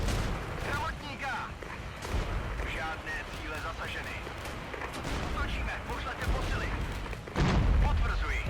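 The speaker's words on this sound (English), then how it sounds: "Can drop heavy artillery onto the infantry" Heavy artillery fire in the wargame Regiments, a dense barrage of booms and crackling gunfire rumbling continuously, with a heavier blast near the end, under a voice.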